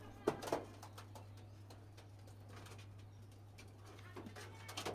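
Pigeons on a home rooftop coo softly in the distance, low throaty calls repeating now and then over a steady background hum.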